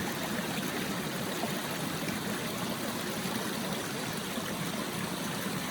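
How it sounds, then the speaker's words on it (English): A river swollen with snow melt rushes by in a constant, dense roar of flowing water, steady and close with no pauses. "The river's swollen, man. All this, the snow melt, all the snow is melted."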